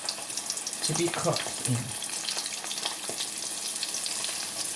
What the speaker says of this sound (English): I'm going to go ahead and place it in the pan that is very hot and ready